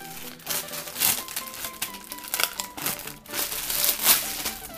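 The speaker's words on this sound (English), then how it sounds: "Peel this off, take the rubbish out of the way." Plastic and paper packaging peeled off and crumpled while unboxing an EasySMX PinShow Bluetooth speaker, a close run of crackling crinkles and rustles with brief pauses, no talking.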